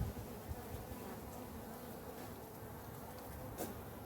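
Honey bees drone steadily at close range during a spring honey harvest, a dense, even buzz with no voices over it.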